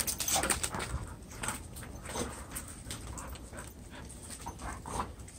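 Several dogs in a pack pant steadily at close range, with a faint whimper now and then, and no one speaks.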